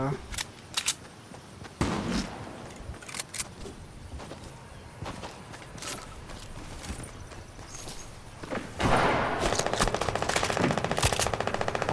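Gunfire in an online shooting video game, bursts of rapid automatic shots and single cracks mixed with footsteps, loud and close, with a sustained heavy volley near the end while players talk over it.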